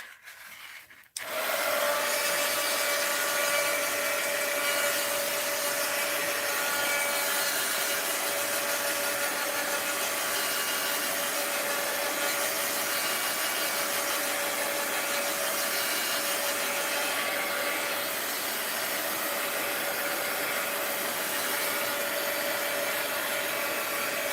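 A handheld dryer blows steadily to dry paint on a page of a mixed-media art journal, switching on after a second and then running as a loud, constant whooshing hum with a faint whine.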